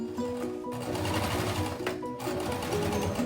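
A sewing machine runs steadily and close by, its rapid needle chatter continuing almost without a break, with two brief pauses before it picks up again.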